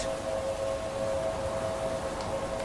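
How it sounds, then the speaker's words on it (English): Tornado sirens in a video game give a steady, sustained wail holding one even pitch over a constant background roar, with no voices present. "Are those tornado sirens?"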